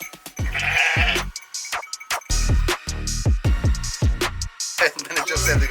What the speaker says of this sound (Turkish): kuzularımız daha yeni doğum yapmışlar